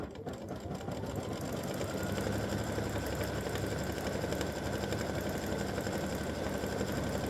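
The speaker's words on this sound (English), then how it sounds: "now we're going to stitch the white stripes on the football on each end" A sewing machine runs steadily, stitching white stripes onto the ends of a football design on a tic tac toe game board, with an even mechanical whir that carries on without pause.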